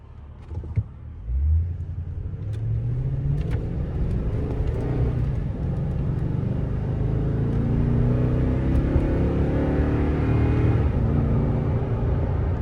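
Steady engine rumble from a 2018 Toyota Tundra SR5 pickup heard from inside the cab while driving, with a low drone that rises as it accelerates and then holds at cruising speed.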